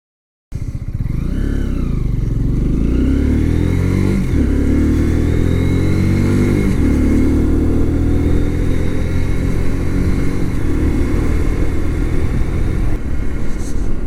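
Kawasaki Z125 Pro single-cylinder motorcycle engine while riding, a loud close throbbing note that climbs and falls as it pulls through gear changes, with wind rush over a continuous ride.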